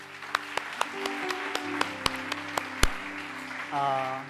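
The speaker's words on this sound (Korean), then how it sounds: "우리 한번 하나님께 감사의 박수를 드리겠습니다." A church congregation at a Sunday service claps in thanks, sharp separate claps growing denser into steady moderate applause, with a voice speaking near the end.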